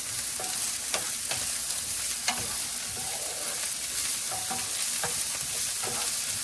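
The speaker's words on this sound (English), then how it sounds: "now I'm going to add my carrots and my celery. And we're going to sweat those out." Carrots and celery sweat in a pan for a ragu-style base, giving a loud, continuous sizzle broken by regular clicks and scrapes of stirring, up close with no voices.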